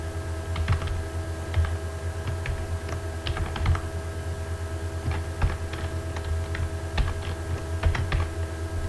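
Keys clatter on a computer keyboard in quick irregular bursts and pauses while PHP code is written, close and clear over a steady low electrical hum.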